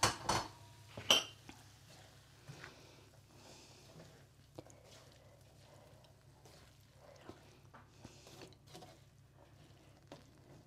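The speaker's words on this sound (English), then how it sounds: "I'm now going to stir in the coconut" A utensil clinks against a pan a few times while coconut is stirred into sautéed shrimp, the sharp taps coming at the start and then giving way to quiet, faint scraping.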